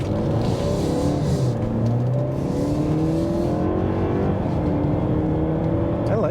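2024 Mercedes-Benz GLE350 4Matic mild hybrid accelerating hard to merge into traffic, engine note climbing steadily in pitch through several rising sweeps, heard from inside the cabin over road and wind noise.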